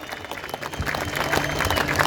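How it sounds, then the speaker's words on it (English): A protest crowd outside the Victorian Parliament building claps, scattered hands building into fuller applause over a couple of seconds. "Give yourselves a applause"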